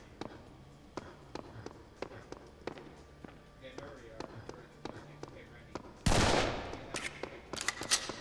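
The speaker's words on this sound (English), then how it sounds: "What's the sound of this pistol?" Pistol gunshots in Serious Sam 3 fire as sharp, evenly spaced cracks in a steady rhythm, followed by a louder burst of dense noise near the end.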